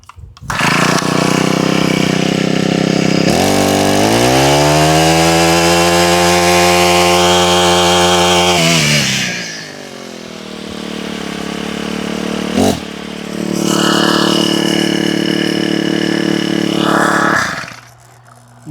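A warmed-up Husqvarna 224L string trimmer, fitted with a new carburetor, starts and runs: a loud, close two-stroke buzz revs up high, drops back to idle, then revs again in two short bursts before shutting off.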